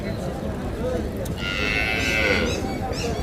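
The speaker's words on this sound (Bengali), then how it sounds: "এই পাশেও কিছু ছোট ছোট পালন উপযোগী বাছুর গরু আছে" Young calves raised for rearing call out at a cattle market in Paragram, with a long, wavering moo in the middle standing out over constant crowd murmur.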